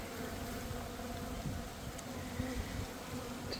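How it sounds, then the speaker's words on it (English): A dense swarm of honeybees packed into a full hive box makes a continuous soft buzzing hum, faint and steady throughout, with no talking. "So many bees."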